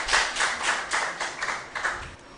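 Audience clapping for student contestants at a school quiz competition; about eight fairly even, rhythmic claps, close and moderately loud, tapering off at the end with no talking.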